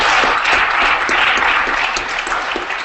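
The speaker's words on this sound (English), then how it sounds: "let's give him another round of applause" Loud, close applause from an audience thanking a guest at an evening event, a steady, dense roll of many hands clapping that carries through the whole moment without pause or talk.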